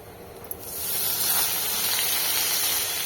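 Chopped greens (saag) hit hot oil in a pan tempered with radhuni and crushed garlic, bursting into a loud, steady sizzling hiss after a brief quieter start, continuing without talk.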